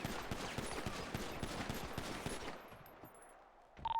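Gunfire at a police academy shooting range in the game GTA V on NoPixel 4.0, a fast burst of repeated sharp shots for about two and a half seconds, then near silence before a brief electronic tone.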